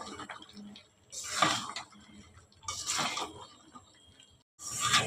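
Homemade khurma sweets being stirred in a pan on the stove, giving soft, quiet scraping and sizzling strokes in three separate bursts with short pauses between them.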